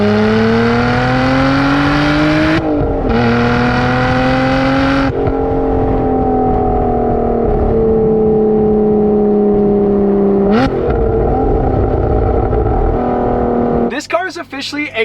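A high-revving V12 supercar with a titanium exhaust roars loudly and continuously, pitch climbing through gear changes with brief drops between shifts, ending in a sharp crackling burst.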